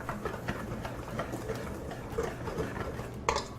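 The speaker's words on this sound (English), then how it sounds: "We're going to give that another dry mix here." Dry ingredients with brown sugar are mixed in a bowl, a close series of soft scraping, tapping strokes of a utensil against the bowl, ending in a sharper clink; no talking.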